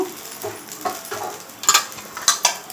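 Masala dosa batter cooking on a hot pan, with light sizzling broken by a few sharp scrapes and clinks of a utensil against the pan, close and fairly quiet, no voices.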